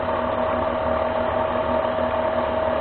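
Lathe spinning a mandrel at 500 RPM, a steady mechanical hum with a constant tonal whine and faint rattling gear texture, even and close for the whole stretch with no voices.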